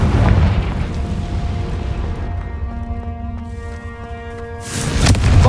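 A Confringo fire spell going off in Hogwarts Legacy, a heavy rumbling blast with ringing tonal overtones that decays, then a second burst near the end.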